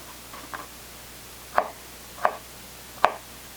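A knife chops fresh apricots on a cutting board for oatmeal cookies, giving three or four crisp, evenly spaced thunks close by. Between the cuts there is only a quiet room hum.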